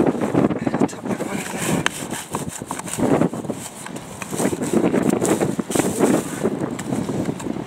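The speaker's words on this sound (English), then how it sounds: "Oh, crikey, it really is blowy today." Strong outdoor wind gusts buffet the microphone in a kitchen garden near a cabbage bed, a steady loud rumbling roar that swells and eases across the whole stretch, with faint rustling and knocks mixed in.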